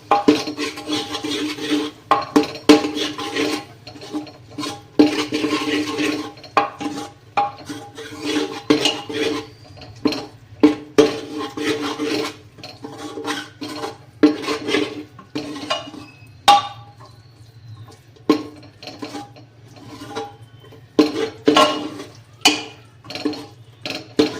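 Pigeon peas (tuver) being stirred in a metal pot for a green tuver curry: repeated clinks and scrapes of a spoon against the pot, fairly close, in an irregular rhythm, with a low steady hum underneath and no talking.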